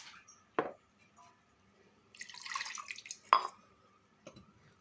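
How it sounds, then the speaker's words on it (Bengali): Water is poured from a rinsed spice bowl into a pressure-cooker pot while cooking a recipe: a short splashy pour in the middle, framed by a few sharp clinks of the bowl against metal in a quiet kitchen. "এবারে এই মশলার বাটিটা ধুয়ে জল দিয়ে দেব।"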